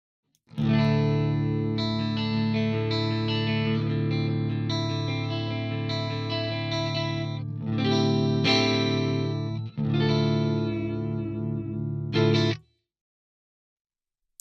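Clean electric guitar chords through a tube amp ring out and sustain, changing a few times before stopping abruptly into silence.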